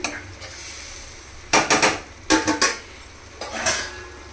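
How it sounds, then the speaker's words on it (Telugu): Eggs with salt and chili powder stirred in a pan: three short bursts of scraping and mixing, close and fairly loud, separated by brief pauses. "ఈ ఉప్పు కారం అన్నీ ఎగ్స్ పట్టే విధంగా ఇలా ఒకసారి కలుపుకొని"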